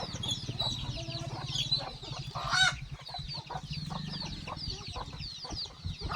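Free-range village hens cluck repeatedly in a farmyard chorus, with a brief louder squawk partway through and a low steady hum underneath.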